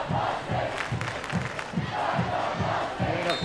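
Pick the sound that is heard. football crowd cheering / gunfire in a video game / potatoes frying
football crowd cheering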